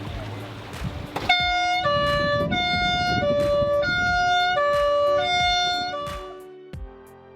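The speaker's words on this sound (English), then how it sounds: "Let's hear the horn" A 1967 Red and White bus on a vintage vehicle run sounds its horn in a series of loud, clear tonal blasts, long held notes broken by short gaps, close by and ringing after a burst of background noise.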